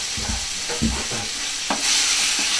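Seasoned beef for chili being stirred in a pan, loud close scraping strokes and bumps over a constant frying sizzle that swells toward the end, no talk.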